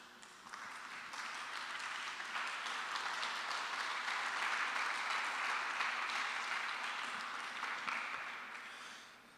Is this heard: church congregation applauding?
yes